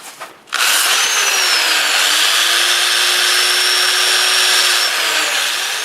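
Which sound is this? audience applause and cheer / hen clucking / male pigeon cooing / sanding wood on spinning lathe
sanding wood on spinning lathe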